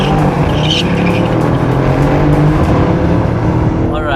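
A tuned BMW M5 Competition and a tuned Mercedes CLS63 AMG launch side by side in a race, their engines roaring loud and close with tire noise throughout.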